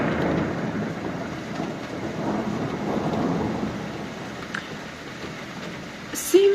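Steady rain falling outdoors with a low, rolling rumble of distant thunder under it, a continuous even wash of sound without speech.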